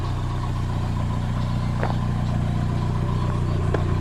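A Mazda Eunos on its first road drive in ten years, heard as a steady low engine drone and road rumble, continuous and fairly close, with a few faint clicks over it and no talking.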